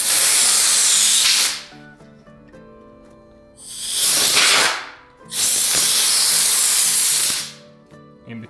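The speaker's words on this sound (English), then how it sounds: "if you have access to compressed air, to just blow out" Compressed air blasting loudly through a chainsaw bar's guide rails in three long, broadband hissing bursts with quieter gaps between them.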